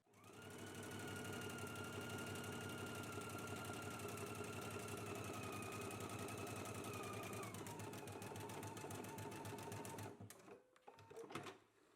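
A sewing machine runs continuously for about ten seconds, stitching the side and inner leg seams of toddler pants at a 5/8-inch allowance, then slows and stops, followed by brief handling clatter.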